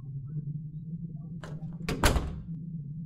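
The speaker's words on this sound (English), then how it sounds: "The basement door is open." A basement door in The Crooked Man opens with a short creak and a heavy thunk, loud and close, over a low droning background hum.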